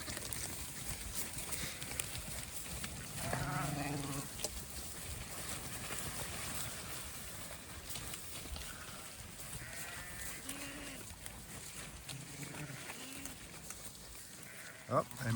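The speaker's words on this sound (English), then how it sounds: "look at all the new lambs" Sheep and new lambs bleat on a farm in several short calls, some close and some farther off, over outdoor background noise.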